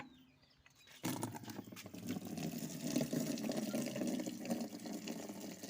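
Water pours into a container outdoors in a steady, gushing stream that starts abruptly after a brief quiet moment and keeps running loudly to the end.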